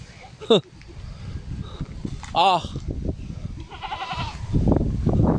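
Goats bleat in a rural farm setting, with a sharp nearby bleat at the start and a longer wavering one midway, amid rustling and someone talking.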